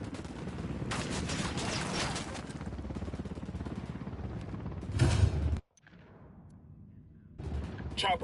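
Video game gunfire erupts in dense, sustained volleys with a loud burst near five seconds, then cuts to near silence before firing resumes faintly at the end.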